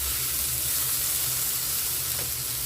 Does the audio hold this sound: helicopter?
no